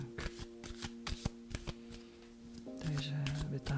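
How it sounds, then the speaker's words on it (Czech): A deck of cards is shuffled in quick riffling bursts before a card is drawn, crisp close flicks and snaps while someone talks and a low steady tone hums underneath. "Takže vytáhnu si kartu"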